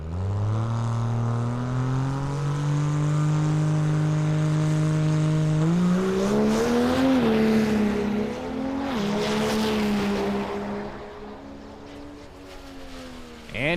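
A drag racing pickup truck makes a run down the strip at an NHRDA truck event in Tulsa, its engine holding a loud steady drone before climbing through several rising revs, then fading as it pulls away.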